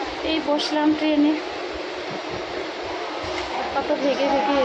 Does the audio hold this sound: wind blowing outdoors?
no